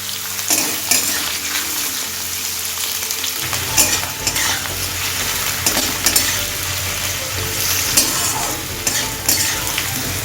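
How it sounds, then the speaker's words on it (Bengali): Potatoes fry on a high flame with a dense, steady crackling sizzle throughout, broken by repeated scraping and stirring knocks against the pan, close and fairly loud with no talking. "এবার হাই ফ্লেমে আলুটাকে একটু ভেজে নেব।"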